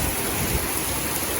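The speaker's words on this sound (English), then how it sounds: "It's raining, it's pouring" Heavy tropical rain pours down during a thunderstorm in Pattaya/Jomtien, a dense, even roar of rainfall on surfaces that fills the whole stretch without any break.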